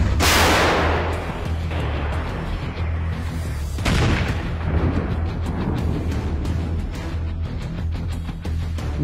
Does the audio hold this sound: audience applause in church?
no